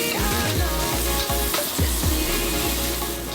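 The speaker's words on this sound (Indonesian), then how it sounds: "sekarang kita oseng dulu nih bawang putih" Garlic stir-fried in a pan for a Makassar-style dish sizzles steadily, with repeated scraping stir strokes of a spatula cutting through the loud, close frying hiss.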